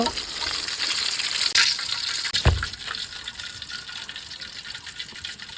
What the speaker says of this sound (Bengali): হয়ে গেছে আমার কাতল মাছ ভাজা তো এবার তুলে নেব